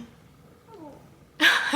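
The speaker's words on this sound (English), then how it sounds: "It was a cat and it went away." A cat lets out a brief meow-like cry, followed by a louder, sharper burst of noise, close by and with no talking.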